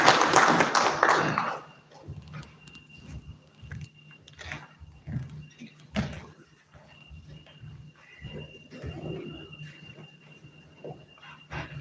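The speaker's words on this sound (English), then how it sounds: "We can give a round of applause as she joins the podium" Applause from the audience at a formal parliamentary bill forum as the next speaker walks to the podium, a brief loud burst of clapping that fades within two seconds into quiet room shuffles and scattered small noises.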